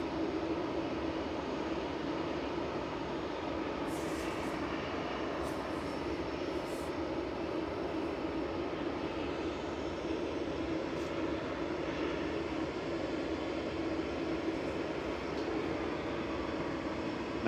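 KLM airliner at Manchester Airport in the morning, a steady, fairly distant jet engine roar holding level throughout without a clear rise or fade, with no talk.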